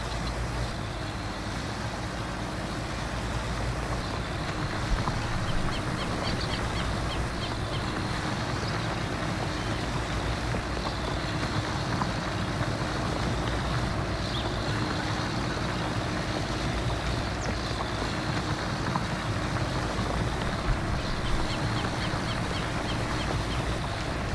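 A John Deere 9R tractor pulling a plow in Farming Simulator 19 gives a loud, steady engine drone with a broad rumbling roar that holds unchanged throughout, with no voices.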